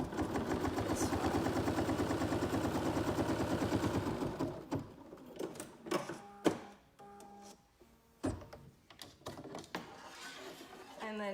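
A sewing machine stitches a placement line across a Flying Geese quilt block, running in a steady mechanical rhythm for about four seconds before stopping, followed by scattered handling clicks and taps.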